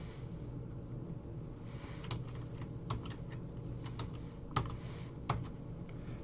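Keys clack on a computer keyboard as a sudo password is typed at a terminal prompt, a short irregular run of light taps with a couple of sharper strokes, heard alone over a steady low room hum.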